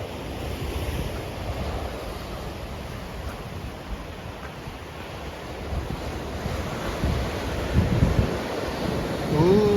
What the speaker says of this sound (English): Ooh, the waves are really getting bigger.